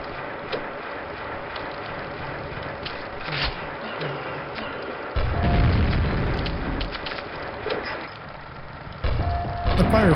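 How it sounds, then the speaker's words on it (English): Grenade launcher blasts in the video game Quake land as deep booming thumps, with two heavy low impacts standing out over a busy backdrop of mechanical clanks, creature noises and game effects. "I use a grenade launcher to bank these into the other zombies behind them"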